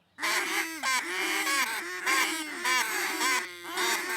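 Several duck calls blown by a group at a world-class duck calling session, a dense overlapping chorus of loud nasal quacks in rapid repeating bursts, close and continuous with no talking.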